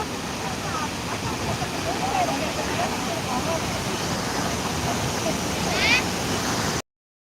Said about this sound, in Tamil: இங்கே பாருங்க இங்கே ட்ரெண்ட் அருவி கொட்டுது தண்ணி கொஞ்சம் கம்மியாக தான் வருது இந்த தடவை